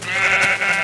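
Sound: sheep bleating in Minecraft Xbox 360 video game

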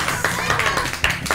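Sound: applause for the two Playmobil magicians

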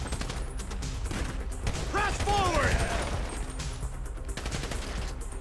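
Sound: gunshot headshot in video game Grand Theft Auto 5

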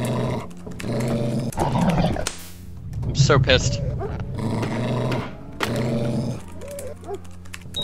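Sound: dog growling and attacking in the video game Monaco

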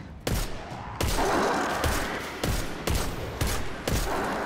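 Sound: gunfire in Destiny 2 video game

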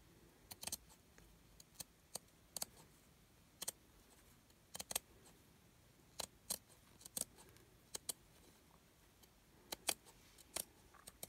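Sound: scissors cutting off a paper edge

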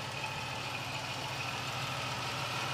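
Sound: car engine idling

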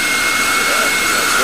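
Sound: electric ducted fan (EDF) spinning up under throttle

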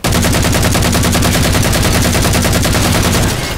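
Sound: weapon sounds in the video game Halo 4

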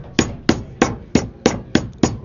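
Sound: pounding pork loin thin with a mallet

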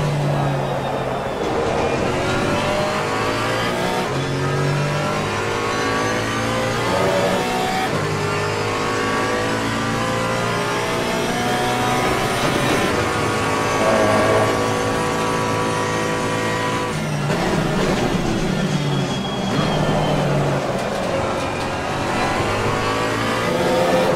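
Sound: GT4 race car engine during a lap in Assetto Corsa Competizione video game

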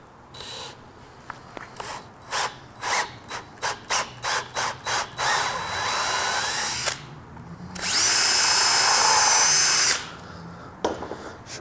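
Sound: power drill drilling through wood with scrap backing

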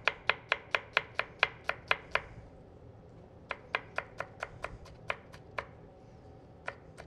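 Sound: finely chopping food with a knife

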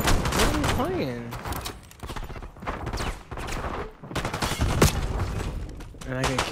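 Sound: gunfire in video game Call of Duty Black Ops 6

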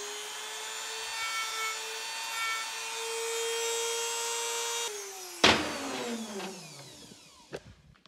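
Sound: sanding bit smoothing metal edges

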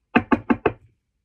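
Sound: knocking on a door

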